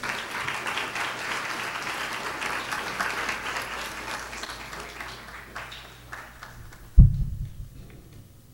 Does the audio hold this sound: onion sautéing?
no